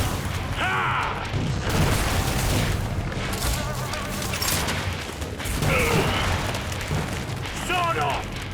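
Sawed-off shotgun blasts in Killing Floor 2, several heavy booming shots spread over a few seconds amid game noise and mechanical clatter, loud and close, with someone talking over them.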